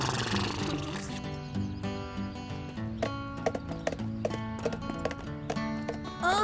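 Horse hooves clip-clop in a cartoon, a run of sharp close hoofbeats over a tonal musical backing, growing busier and louder toward the end.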